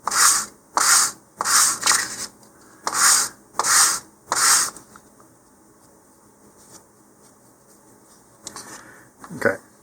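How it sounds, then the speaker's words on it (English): Balsa fins on a Dyna-Star Orion model rocket are sanded by hand in about eight rhythmic, close, raspy strokes. Quieter handling and a couple of faint rubs follow after the strokes stop. "we'll come back and continue sanding these as needed"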